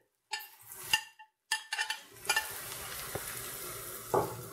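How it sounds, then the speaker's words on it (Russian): Onion and carrot frying in a pan for borscht, with a steady sizzle and a few scraping stirs and utensil knocks against the pan at the start, close up. "Хорошо перемешиваем и даем немного прожариться луку с морковкой."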